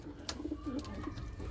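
Turkish tumbler pigeons cooing in a loft, a few soft low coos close by over a faint background hum, with a brief sharp chirp near the start.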